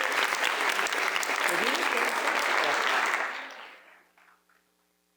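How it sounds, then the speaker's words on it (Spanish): Applause from a conference audience during a transparency-week event, a dense, loud roar of clapping that holds steady for about three seconds, then thins and fades away to silence. "¿Qué tal si le damos un aplauso a ella que está un poquito nerviosa?"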